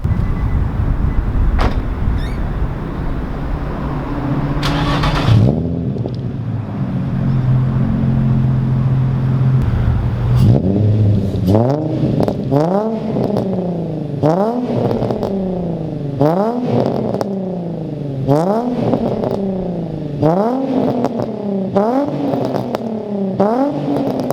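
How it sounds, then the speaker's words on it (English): A loud Infiniti G35 coupe engine with a 3-inch single-exit exhaust idles, then revs up repeatedly in sharp bursts, its exhaust rising and falling in a rhythmic series of throttle blips. "let's go ahead and rev it again"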